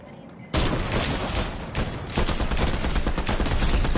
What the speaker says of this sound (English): Already getting shot at.